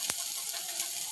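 Bitter gourd frying in a pan while being stirred, with a steady close sizzle throughout and a brief louder scrape or clatter of the spoon near the start.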